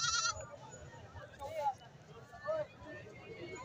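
A tall milk goat with two kids bleats a few short, faint calls in a farm setting while someone talks over them.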